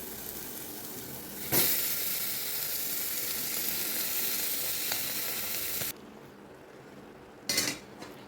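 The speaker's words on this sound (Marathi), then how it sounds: "आता मटण टाकून घेऊया धुवून घेतलेलं" Washed mutton goes into a pan of sautéed ginger-garlic paste with turmeric and salt, setting off a loud, sustained sizzle that later drops to a quieter hiss, followed by a short clatter of utensils.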